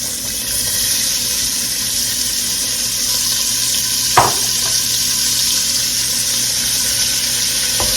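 Steady, loud sizzle as vegetables go into a hot pot for beef short ribs and roast, with one sharp clatter partway through and a continuous hiss throughout.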